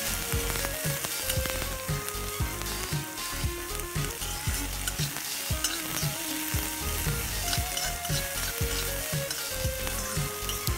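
Sliced onions, mustard seeds and green chilies frying in hot oil in a pan, a loud, dense, crackling sizzle that runs steadily throughout, heard up close with no voices.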